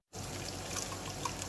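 Canned light tuna and its water pour and splash into a pan in a continuous, soft gush that starts abruptly and keeps running steadily.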